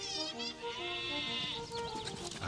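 A sheep bleats continuously with a wavering, quavering voice, fairly close and clear, with no other sounds around it.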